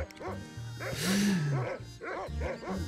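A dog barks and yips repeatedly in the pirate adventure game Monkey Island 2: LeChuck's Revenge, a short run of sharp, close barks with a brief whine between them.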